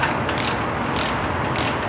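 Ratchet turning a stud in a Volkswagen air-cooled engine case, steady rapid clicking of the pawl with a few louder swing strokes, close and continuous, no voices.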